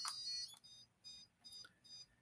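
A series of high electronic beeps from a Dolphin Neurostim device in a steady rhythm, about four short tones, clear and close in a quiet room.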